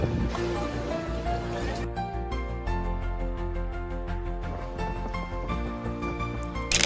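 Splashing water and engine-driven wash during a boat ride on Pichola Lake, a steady broad churn with a louder burst at the start, accompanied throughout by music.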